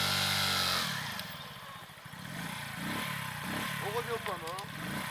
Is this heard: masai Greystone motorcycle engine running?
yes